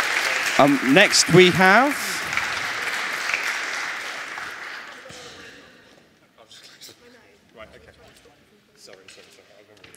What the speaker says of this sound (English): round of applause for Chloe